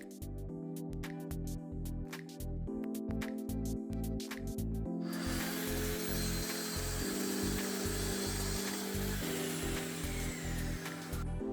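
A power tool cuts an oak stair riser with a loud rhythmic mechanical drone, then a harsh, sustained cutting roar that joins in midway and runs to the end.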